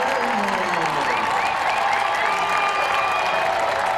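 Spectators cheer and clap at a women's ultimate frisbee club world championship final, a broad wash of crowd noise with scattered shouts and whistles carrying on without a break for several seconds.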